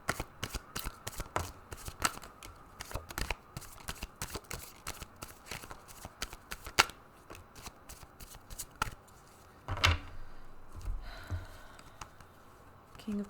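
A deck of tarot cards is shuffled by hand: quick flicking riffles and soft slaps repeating in bursts, close and fairly quiet, with a brief rustle partway through.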